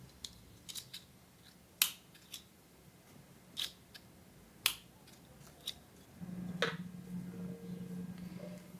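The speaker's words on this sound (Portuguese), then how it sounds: "Vamos cortar aqui essas pontinhas de baixo." Scissors snip the loose crochet yarn ends on an amigurumi cloud, a few sharp separate clicks spaced a second or so apart, fairly close and quiet, followed by a low steady hum.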